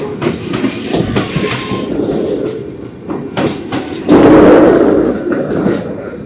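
A local stopping train rolls into a station, loud and close, its wheels rumbling and clacking over the rails with a squealing rise as it brakes, no voices.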